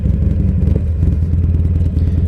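Harley-Davidson Sportster Iron 883 rumbling along on a ride, a steady low loping engine throb with road clatter, close and continuous.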